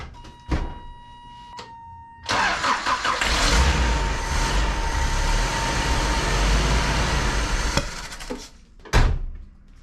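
A 1979 Toyota Corolla with a 2TC engine cranks, catches on starter fluid and runs roughly for several seconds, then dies, with loud close clicks and thunks around it and no talking.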